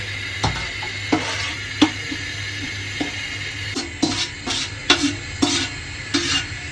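Potatoes frying in hot oil in a wok, a steady sizzle under a low hum, broken by a series of sharp clinks and scrapes of a utensil against the pan, bunching toward the end.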